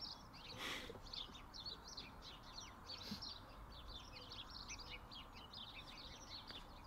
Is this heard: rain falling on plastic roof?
no